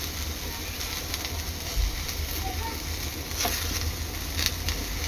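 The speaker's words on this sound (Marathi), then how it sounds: "हे वाटण आहे ना, एक खरपूस रंग येईपर्यंत तेलावर परतून घ्यायचं आहे" Spice paste with sesame and garlic frying in oil for an egg curry, giving a steady, fairly quiet sizzle with small crackles throughout and no one talking.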